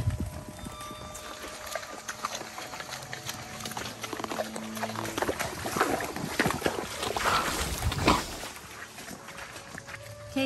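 Horse hooves clip-clop steadily on a horseback trail ride through woods, a continuous rhythmic plodding that is close and moderately loud, with rustling and faint background noise and no speech.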